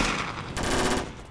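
Machine-gun fire aimed at an enemy in the video game Warfare Reloaded sounds as a brief, loud stretch of rapid repeated shots, close up and without any talk.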